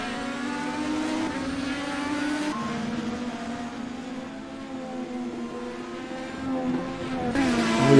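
Race car engines in an IndyCar video game at the Cleveland circuit, a steady droning whine that holds for several seconds, dips slightly, then climbs toward the end.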